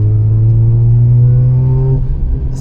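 A Mazda RX-8 rotary engine revving loud and steady toward its 9000 rpm limiter, a sustained high-pitched drone that holds and then drops off near the end.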